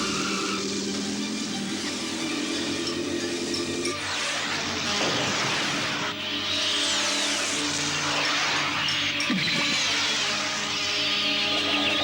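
Animated cartoon car from Transformers G1 accelerating, a sustained engine rise with swooping whooshes that swell and pass over about twelve seconds, steady and loud with a music-like background, no talk.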